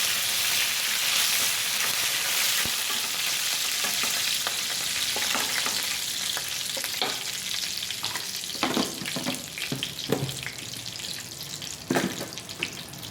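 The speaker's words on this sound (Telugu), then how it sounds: "ఇలా పోపు వేగేటప్పుడు దీనిలోకి కరివేపాకు కూడా వేసుకోవాలి." Spices tempering in hot oil with curry leaves for gongura pachadi hiss and sizzle steadily up close, with sharper crackles and pops bursting through the dense frying noise toward the end.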